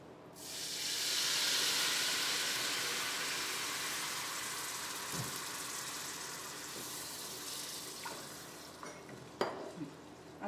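A pot of water for chakali dough heats on the stove with a strong hiss that swells early on and then slowly fades, followed by a few faint clinks of utensils close by, with no voices.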